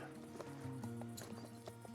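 A horse gallops in a video game, its hooves making rhythmic clip-clop beats over steady, tonal game music.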